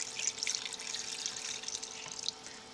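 Tap water running steadily into a pot of corned beef and cabbage stew being prepared for a home freeze dryer, a continuous close splashing flow with no talking.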